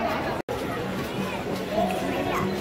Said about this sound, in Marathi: बघा किती गर्दी आहे.